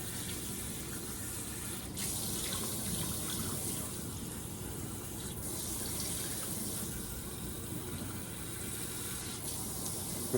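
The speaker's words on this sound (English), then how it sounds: "Then we go fill it back up with just regular water." A kitchen sink tap gushes water into a pot, a continuous close splashing rush that holds steady from start to finish with no voices.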